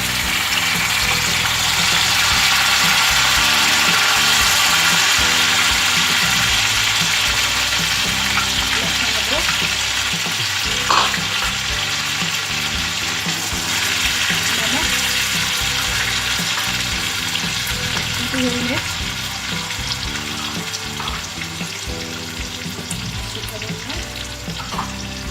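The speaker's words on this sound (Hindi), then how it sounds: "प्याज ब्राउन हो गए हैं, इसमें टमाटर डाल देंगे।" Tomatoes fry with browned onions in a pan, giving a loud, steady sizzle that holds throughout with a faint background hum and a few soft clatters.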